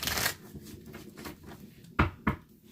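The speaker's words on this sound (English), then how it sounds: "one more shuffle" Tarot cards being shuffled by hand, a soft papery riffle and slide with a couple of sharper snaps near the end, close and fairly loud with no talking.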